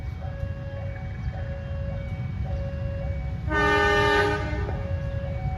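Two Bandung Raya commuter trains departing together at Gedebage, where a level crossing bell dings steadily before one loud, rich horn blast rises over the rumble for under a second and then fades back to the bell.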